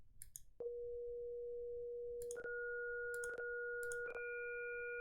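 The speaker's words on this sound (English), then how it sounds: "Here's approximating a square wave with a single sine wave, and then we'll add more" A steady synthesized sine tone switches on abruptly, then gains extra higher pitches in a few sudden steps as it builds toward a square wave, each change marked by a faint click.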